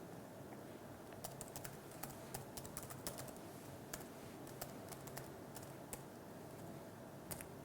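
Faint, quiet typing on a computer keyboard at a Linux terminal: scattered key taps and irregular clicks over a soft background hiss, with no speech.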